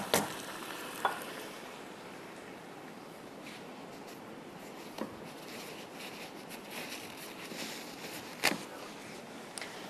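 A spoon stirs tandoori fish biryani in a kadai over a steady low sizzle, with a few sharp scrapes and clicks against the metal scattered through the ten seconds; no one speaks.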